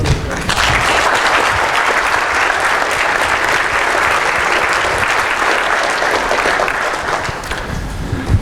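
An audience at a physics lecture on general relativity and black holes in Nottingham breaks into warm, sustained applause for the speaker, a steady, dense clapping that holds for several seconds and then tapers off.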